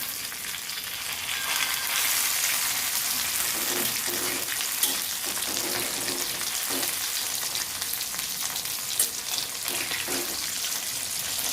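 Prawns fry Konkani-style in a pan with a loud, constant hiss of hot oil, broken by a few soft clattering bursts as the pieces are flipped.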